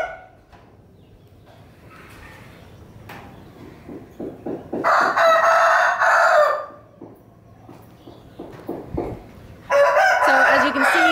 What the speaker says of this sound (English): They're fighting chickens, taking up about half of the gym.